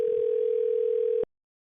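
A steady single-pitch telephone tone hums while waiting on a call, holding evenly for just over a second before cutting off into silence.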